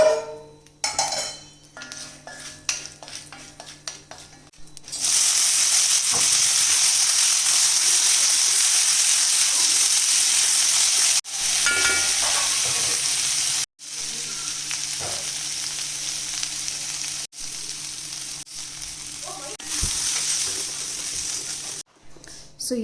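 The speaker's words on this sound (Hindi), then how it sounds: "बेसिक घी में राई, उड़द दाल और सूखी लाल मिर्च का तड़का है." Mustard seeds, urad dal and dried red chilli tempering in hot ghee, a loud steady sizzle and crackle from the pan that runs for most of the clip, broken by brief pauses and faint stirring clinks.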